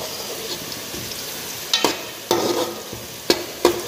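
Tomatoes fry in a pan with cumin, black cardamom, cloves and coriander under a soft, steady sizzle, broken by a few sharp clicks and scrapes of a utensil against the pan.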